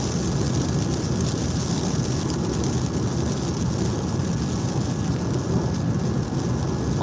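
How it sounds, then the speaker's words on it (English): Steady rain and road noise heard from inside a Lucid Air cruising on the highway, a continuous broadband wash with no break. "Although it is raining."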